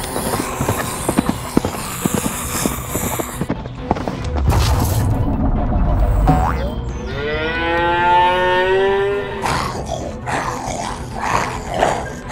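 A cartoon cow gives one loud, drawn-out moo, with shorter animated sound effects before it and after it.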